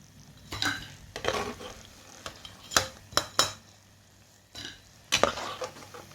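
Murukku fries in hot oil, with a soft sizzle underneath and several sharp metallic scrapes and clinks of a ladle against the pan as pieces are stirred and lifted out, spaced irregularly and fairly close.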